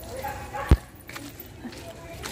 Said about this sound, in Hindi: उसके भौंकने की आवाज़ आ रही है